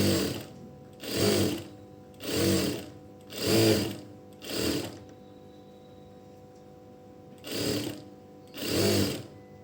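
Sewing machine stitching piping on fabric, eight evenly spaced bursts of rapid mechanical whirring, each about half a second long, close and clear with quiet gaps between.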